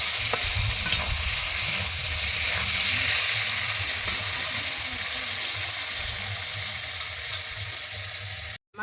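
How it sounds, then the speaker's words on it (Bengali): Vegetables frying in hot oil in a pan for a Bengali sola kochu curry, a loud, continuous close sizzle with stirring scrapes, cutting off abruptly at the end. "আমি এই তেলের মধ্যে এবারে সাউরগুলোকে ভেজে নিচ্ছি"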